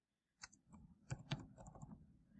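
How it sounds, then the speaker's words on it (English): Keys on a computer keyboard are tapped in a short quick burst of close, crisp clicks, quiet and without talk. "So I'm going to type in life skills here."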